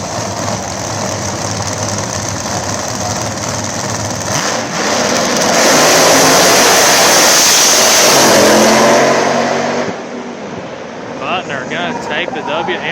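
A Pro Boost pro mod drag racing car at a PDRA event idles roughly, then roars loudly as it launches and fades away, while an announcer talks over the track noise.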